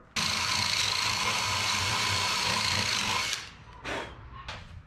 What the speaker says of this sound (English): Use that drill to clean that out.